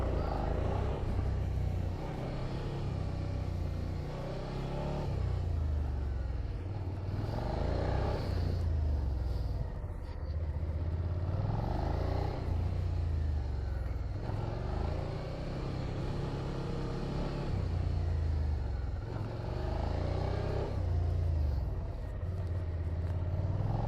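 A 2021 Suzuki SV 650 motorcycle working through gymkhana cone exercises, its engine surging and easing in a repeated rhythm at moderate distance, with occasional voices in between.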